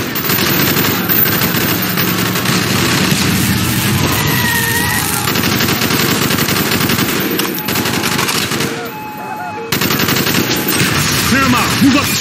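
Dense automatic gunfire from Call of Duty: Black Ops, loud and sustained, with bursts overlapping continuously across the scene and shouted voices faintly under the shooting.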